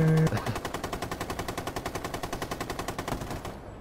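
Rapid automatic gunfire from a video game rattles out in steady, evenly spaced bursts for over three seconds, loud and close, with no speech.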